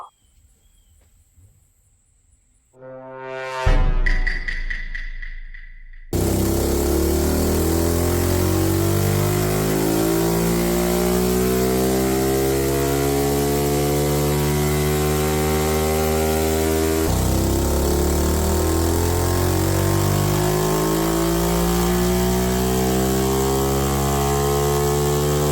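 A pit bike engine fitted with a VM22 carburetor runs on a dyno: after a brief quiet start and a rising rev, it settles into a loud, sustained mid-pitched drone that holds steady to the end.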